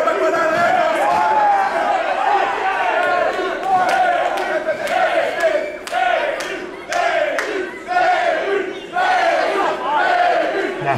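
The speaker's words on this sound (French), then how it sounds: "La foule là, qui est vraiment derrière Kevin Beru" A wrestling event crowd roars and shouts almost nonstop, with repeated surging cheers and sharp yells rising and falling in waves across the arena.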